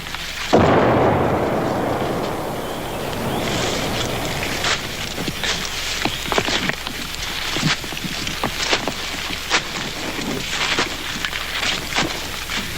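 Vietnam War artillery shelling nearby, a heavy boom opening into a long rumbling roll, followed by repeated sharp cracks and thuds of fire over a steady low drone.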